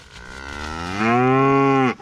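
A single cow gives a long, loud, close moo that rises in pitch and holds steady before breaking off, heard clearly on a farm at feeding time with no talk over it.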